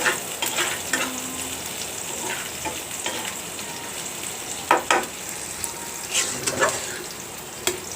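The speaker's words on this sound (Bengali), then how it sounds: "বারবার নেড়ে চেড়ে দিচ্ছি যাতে নিচে লেগে না যায়।" Jute leaf dal frying in a pan, a continuous soft sizzle with occasional spatula scrapes and clinks as it is stirred, close and moderately quiet, no talking.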